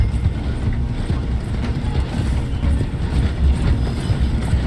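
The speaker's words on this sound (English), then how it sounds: "The train is slowing down to go through the station." Horses gallop alongside a slowing train in Red Dead Redemption 2, their steady rumbling hoofbeats mixing with the dense rolling clatter of the train, loud and continuous with no talk.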